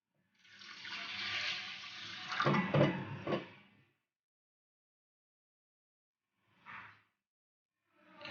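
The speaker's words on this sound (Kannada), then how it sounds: "ಈಗ ನಾನು ನೀರನ್ನು ಹಾಕ್ತಿದ್ದೀವಿ." Water pours steadily into a pressure cooker holding rice for about three seconds, then cuts off, followed by two brief splashes after a silence.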